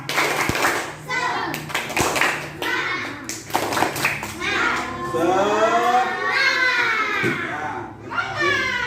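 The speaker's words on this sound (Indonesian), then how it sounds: "Tepuk semangat." A class of Indonesian schoolchildren repeats a rhythmic spirit clap, sharp patterned hand claps in quick groups mixed with their loud chanting voices close by.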